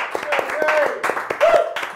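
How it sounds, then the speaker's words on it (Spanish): Scattered hand claps on a television talk show, a handful of sharp individual claps mixed with a voice and a brief tonal sound, fairly close and uneven rather than a full ovation. "este aplauso para el profe Hernán Mesa"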